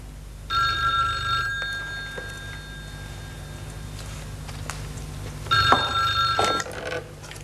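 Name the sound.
telephone ringing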